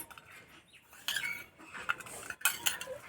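Chhana being mixed with date palm jaggery in a bowl, soft close scraping and tapping of a spoon in irregular bursts, quiet with brief clinks.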